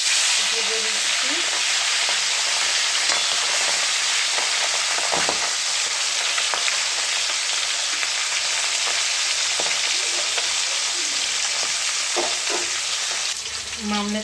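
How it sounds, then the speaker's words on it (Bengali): A fish head fries in a pan, to be cooked with cabbage, giving a loud, continuous sizzle with occasional stirring clicks and faint talk in the background. "এই যে মাছের মাথাটা দিয়ে দিয়েছি, বাঁধাকপি দিয়ে হবে, ভেজে দিচ্ছি।"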